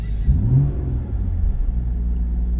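A BMW M140i with a titanium exhaust revs up sharply, heard from outside the car, then settles into a deep, steady rumble at idle.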